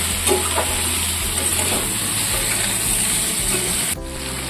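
Muri ghonto is stirred in a frying pan, a dense, close sizzle with scraping strokes throughout that changes character just before the end.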